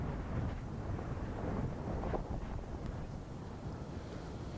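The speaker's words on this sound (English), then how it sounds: "What's your trick in windy conditions, Ross?" Gusty wind buffets the microphone on a golf course during a tournament, producing a constant low rumbling roar that swells and eases slightly, quiet overall with no voices.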